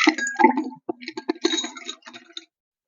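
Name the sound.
ice cubes poured into a cocktail shaker glass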